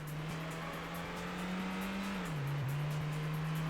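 Ford Puma car driving in the video game Ford Racing, a steady engine drone with a slight pitch dip and recovery, continuous and fairly loud with no talk.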